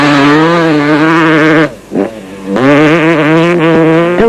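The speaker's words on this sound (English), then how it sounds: "bike after bike flashed past in quick succession" Off-road race motorcycles in the 1998 Toyota 1000 desert race in South Africa scream past one after another, loud and close, engines rising and falling in pitch with a brief gap between bikes.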